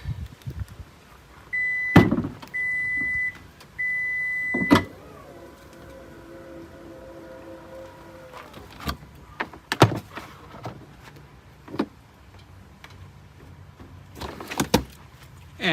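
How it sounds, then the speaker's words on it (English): Powered frunk of a Ford F-150 Lightning opening: several short electric motor whirs separated by pauses, then a longer low motorized hum and a few soft thuds and clicks, fairly close with no talk. "Then we have to open the frunk."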